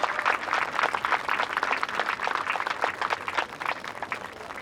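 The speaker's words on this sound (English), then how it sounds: "he certainly deserves all the applause." Applause from a crowd greeting a rescued lion cub, a fairly faint, steady patter of many hands clapping continuously throughout.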